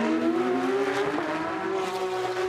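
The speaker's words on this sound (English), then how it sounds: "Such distinctive exhaust notes from these flat six engines." Porsche flat-six race car engines howl in a steady, loud, sustained exhaust note during a 2022 Porsche Carrera Cup North America race on a Toronto street circuit, with the pitch shifting slightly as the cars pass.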